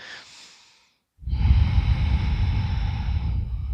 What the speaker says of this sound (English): Nice deep breathing.